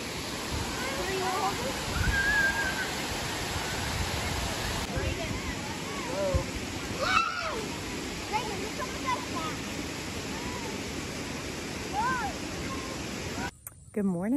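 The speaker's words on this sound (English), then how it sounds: "You see the waterfall?" A river waterfall pours out a steady, close rushing roar that fills the whole stretch, with family voices and chatter scattered over it.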